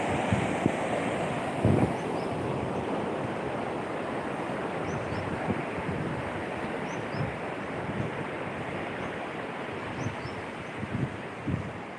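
Surf rolls steadily onto a clean, wide beach at Batu Mikhau near Krui, a continuous broad wash of breaking waves with wind buffeting the microphone and occasional louder surges.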